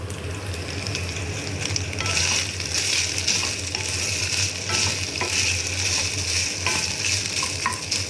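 Mayonnaise-based sauce being mixed in a bowl for homemade shawarma, giving a steady, close, continuous wet churning and scraping with no pauses and no voices.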